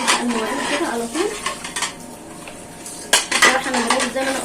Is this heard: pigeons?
no